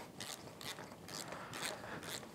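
A ratchet tightens the fork nut on a Honda Goldwing motorcycle during fork seal replacement, five quick rhythmic bursts of clicking pawl strokes, close and fairly quiet, with no talking.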